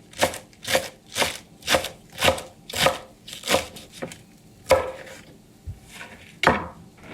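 A knife chops Savoy cabbage on a cutting board in a steady run of about a dozen sharp, close strokes with short pauses between them.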